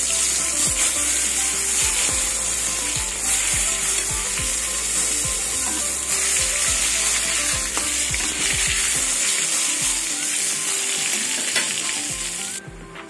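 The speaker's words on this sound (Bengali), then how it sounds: "বেগুন ভাজা হয়ে গেছে, বেগুনগুলো তুলে নেব।" Loud, continuous sizzle of eggplant frying in oil, with repeated low knocks of a utensil stirring and turning the pieces.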